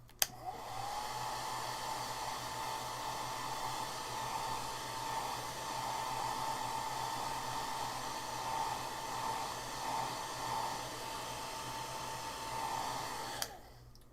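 A hair dryer blows on a freshly painted watercolor bird, a continuous loud whooshing drone starting abruptly and cutting off after about thirteen seconds.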